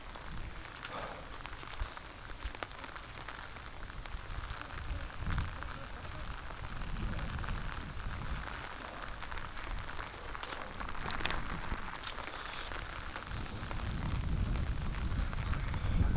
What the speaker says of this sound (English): out here in the rain like this